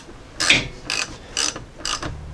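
A ratchet wrench tightens a nut on a Jeep Grand Cherokee strut, with four quick rasping clicking bursts at a steady rhythm, close and clear.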